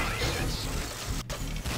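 Mechanical clanking and ratcheting as a torpedo rack is sabotaged in the shooter game C&C Renegade, a steady dense metallic rattle with one brief dropout.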